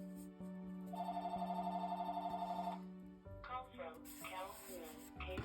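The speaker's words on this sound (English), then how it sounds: "Never fails, the phone rings when I'm making a video" A telephone rings in a home craft room, one steady electronic ring lasting about two seconds, followed by someone talking.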